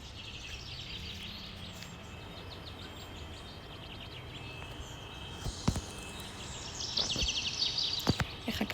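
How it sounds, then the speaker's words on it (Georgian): Birds chirp and tweet in a forest overlooking the sea near Batumi, with soft scattered calls over a faint steady ambience and a few sharper, closer chirps toward the end. "და ჩიტების ჭეკჭეკი რა გაღვიძებთ"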